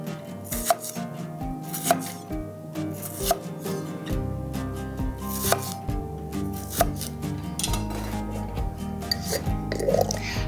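A knife chops tomatoes into pieces on a board, repeated crisp cuts in an irregular rhythm, close and clear with no talking.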